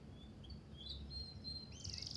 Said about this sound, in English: We have a bird!